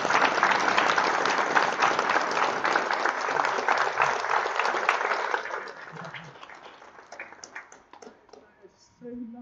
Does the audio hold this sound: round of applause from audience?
yes